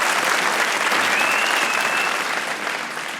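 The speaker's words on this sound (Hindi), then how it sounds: "विराट कोहली की तालियां बजा दो ताकि तालियां ना रह जाएं।" A television comedy show's studio audience applauds for cricketer Virat Kohli, a dense, even wash of clapping at full volume throughout that tapers slightly at the end, with a thin high tone drifting briefly across it.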